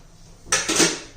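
Peanuts tipped into a mixer jar in a home kitchen: a short rattling pour of hard nuts into the jar, about half a second long, close and fairly loud against quiet background.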